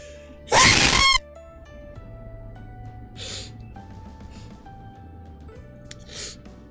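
A single loud, sharp sneeze bursts out near the start and then fades. Quiet background music and faint breathy sounds follow.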